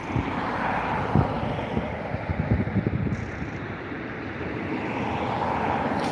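An airliner taxis to the runway at Dublin Airport, its engines giving off a steady, broad roar at a moderate distance, with wind buffeting the microphone and no talk.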